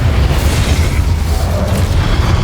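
Incendio fire spell blasting in the Hogwarts Legacy video game: a loud, dense roaring burst of rumbling fire that holds steady throughout, heavy in the low end.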